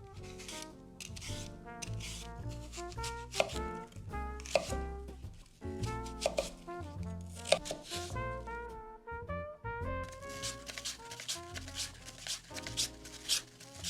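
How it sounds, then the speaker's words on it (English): Knife slicing apples very thin for a galette, a quick series of crisp cuts and taps on a board, some in fast bursts, close up and moderately loud, with no talk. "I like slicing as thin as possible to make them really soft and melty when they are cooked"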